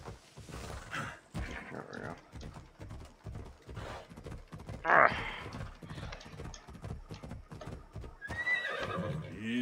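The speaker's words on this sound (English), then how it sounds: "Come here, fucking horse." A horse in a video game neighs and whinnies among clip-clopping hoofbeats, fairly close and moderately loud, with game ambience and a brief voice in the background.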